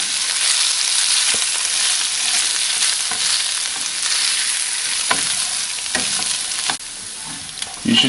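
Potatoes fry in a skillet with a steady, loud sizzle throughout, broken by a few sharp clicks and scrapes as tongs stir and toss them.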